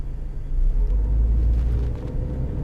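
A 1997 Honda Civic in near-new condition with very low mileage drives along, giving a steady low engine and road rumble that swells slightly as it moves, close and fairly loud with no talking.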